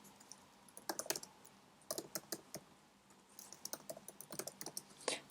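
Keys on a computer keyboard clatter in quick, irregular bursts of close, crisp taps with short pauses, as a code comment is typed in a quiet room.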